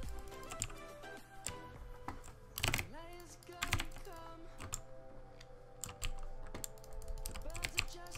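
Rapid mouse and keyboard clicks during a Minecraft PvP match, a dense run of sharp ticks close to the mic, mixed with faint game sounds and occasional talk.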